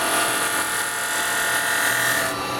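A carbide chisel cuts a small resin bowl spinning on a wood lathe, giving a steady, bright, buzzing whir that holds evenly for the whole stretch with no talking.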